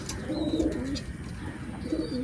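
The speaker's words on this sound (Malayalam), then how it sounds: "ഇതിലും രണ്ട് പ്രാവുണ്ട് കേട്ടോ" Pigeons in a home loft coo in two close, warbling bursts, with a thin high whistle-like tone above each and steady low background noise throughout.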